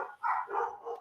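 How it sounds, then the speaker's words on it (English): A dog gives a few quick barks in a row, faint and somewhat distant, with no talking over them. "that's my dog."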